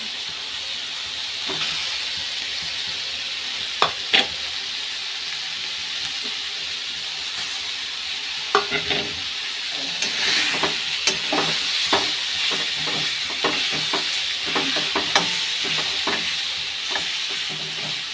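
Boiled potatoes fry in a pan, a steady hissing sizzle with irregular scraping clicks from stirring, busier toward the second half, heard close without talk.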